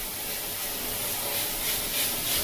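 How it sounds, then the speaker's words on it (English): A paint spray gun at 25 to 30 psi spraying paint thinned to the consistency of semi-skimmed milk gives a continuous, close, broadband hiss of air and atomised paint, steady and unbroken throughout. "Not a problem at all with this brush, spraying at that air pressure that we're working on, 25 to 30."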